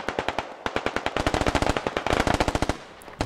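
Sustained automatic gunfire from a Squad Ops military shooter, loud and close, fires in rapid rhythmic bursts of sharp cracks with brief pauses before a final shot.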